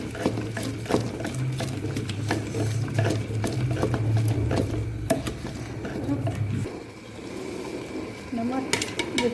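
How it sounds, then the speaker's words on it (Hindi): Cooked mustard greens saag being mashed with a wooden masher, a steady churning, squelching stir with soft rhythmic knocks that run for several seconds, with a low hum beneath. "हमारा साग गल गया, अब इसको घोटा लगाने लगे हैं"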